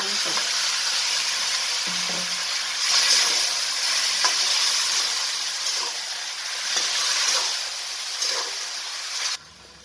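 Tomatoes, ginger and green chilli sizzle steadily in a hot pan, a continuous frying hiss with occasional stirring scrapes, close and fairly loud, with no talking.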